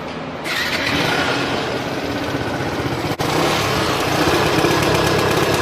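Honda PCX 125 scooter engine running steadily on its center stand, a close, continuous motor hum with no talk.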